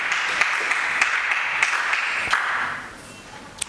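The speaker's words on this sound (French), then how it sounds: "Nous acclamons très fort pour le Seigneur Jésus" A church congregation applauds loudly in praise of Jesus: a dense, steady wash of many hands clapping for about two and a half seconds, then fading away to quiet.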